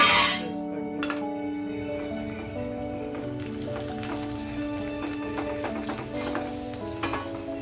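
Flour vadiyalu sizzle and crackle in hot oil on a lowered flame, a close, steady bubbling hiss with crisp pops, opened by a brief metallic clatter of a spoon stirring in the pan.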